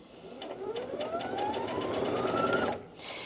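A Brother Innov-is NV2700 sewing and embroidery machine stitches, its motor whine climbing steadily in pitch for about two seconds before cutting off, then a brief pause and a quieter resumed hum. No one speaks.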